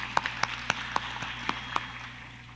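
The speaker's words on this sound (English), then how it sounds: "Please give him a round of applause to welcome him." Sparse handclaps from a conference audience welcoming a panelist at a maritime law panel, about eight separate claps spread over two seconds against a steady room hum, thin rather than full applause.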